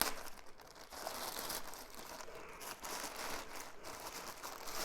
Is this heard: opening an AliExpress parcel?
yes